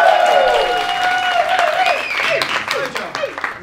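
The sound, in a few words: audience applause after magic linking rings trick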